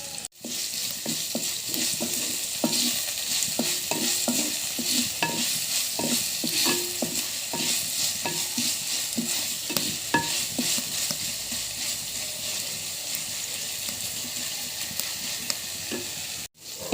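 Onions sautéing in oil in a pan with salt added, a dense, continuous close sizzle and crackle with frequent small taps of stirring throughout, steady and alone without voices.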